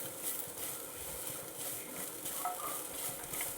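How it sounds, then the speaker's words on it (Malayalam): Grated coconut stirred in a pan with banana, a soft continuous hiss and light scraping at low level, close by and without talk. "ഇനി നമുക്കിതെല്ലാം കൂടി ഒന്ന് നന്നായിട്ടൊന്ന് ഇളക്കി കൊടുക്കാം."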